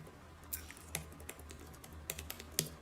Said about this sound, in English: I'm typing on my computer as we speak